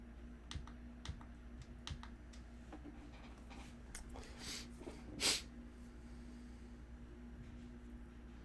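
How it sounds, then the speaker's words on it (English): Computer keys are typed intermittently in a quiet room while someone works through emails, with sparse, faint clicks and taps, a brief louder burst near the middle and a steady low hum behind. "If you hear the clinking of keys, I'm just gonna be moving through a few emails."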